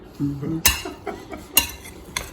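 Potato and string bean salad tossed gently in a bowl, with a utensil clinking and scraping against the dish in a few sharp knocks between softer stirring rustles, close and moderately loud.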